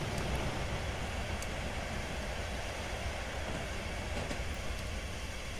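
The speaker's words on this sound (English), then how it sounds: "Oh, here comes another train." A train in the Railworks simulator game rolls past with a steady, loud rumble and rushing noise that holds evenly throughout, with faint clicks from the rails.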